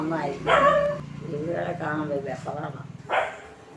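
A dog barks a few times in short bursts, mixed in with people talking nearby.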